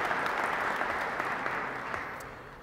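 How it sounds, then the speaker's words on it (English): Warm audience applause in a crowded room at a Dublin event with an Aer Lingus team, steady dense clapping that gradually tapers off. "A round of applause, right?"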